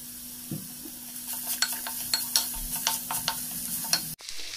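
Capsicum and beans cook in a pan with a soft background sizzle while a spoon scrapes and taps the pan in a run of quick strokes, ending in a short clatter; no talking.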